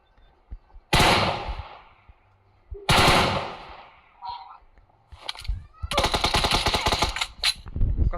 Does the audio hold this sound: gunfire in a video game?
yes